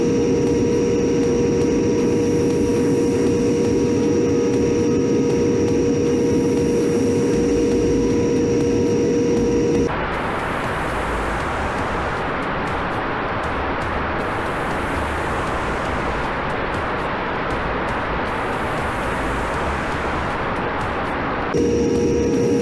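An E-Flite Phantom F4 radio-controlled jet drones loudly and continuously in flight. Its whine shifts pitch abruptly as the throttle changes, then returns near the end.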